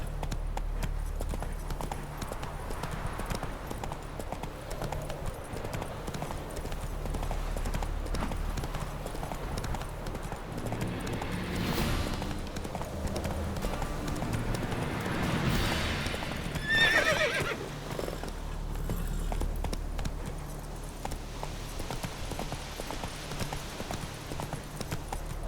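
Roach, Geralt's horse in The Witcher 3, gallops with steady clip-clop hoofbeats and snorts or whinnies, set over a constant low in-game ambience and staying loud throughout.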